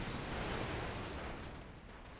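Grenade explosion in Call of Duty 4 during a competitive match, a loud sustained broadband roar that holds steady for a couple of seconds and then slowly fades.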